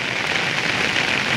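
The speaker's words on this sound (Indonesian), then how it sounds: "berubah drastis dari panas menjadi hujan deras sekali ini" Heavy rain pours down during an outdoor football match, a dense, steady hiss of drops striking the ground that fills the whole moment, loud and continuous with no voices heard.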